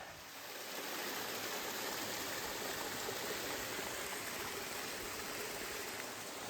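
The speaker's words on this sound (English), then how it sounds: "right up alongside the waterfall" A steady, loud rush of falling water close by, constant broadband roar with no voices over it.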